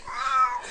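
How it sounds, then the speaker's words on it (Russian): A single cat lets out one drawn-out, plaintive meow, close and clear, lasting under a second. "Артём, что с котом?"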